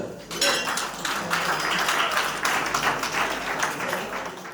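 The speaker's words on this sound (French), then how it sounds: "On acclame quand même le Seigneur" A church congregation at a prophetess's anniversary celebration claps and cheers together in praise of the Lord, a steady, dense wash of applause and acclamation filling the hall throughout.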